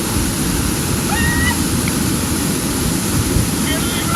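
Powerful rushing water at Oliyappara waterfalls in the hidden forest near Anaikatti, a loud, steady roar of falling and churning water filling the whole clip without a break.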